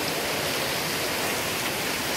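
Heavy rain pours down steadily during a thunderstorm, a dense, constant hiss of water close by with no pauses and no voices.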